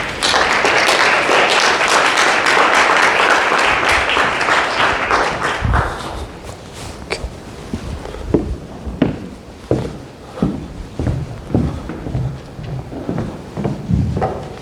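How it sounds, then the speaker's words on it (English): A lecture-hall audience gives a loud, dense round of applause to welcome a visiting law professor, which thins after about six seconds into scattered claps and a few footsteps. "let us welcome Professor Paik with a round of applause"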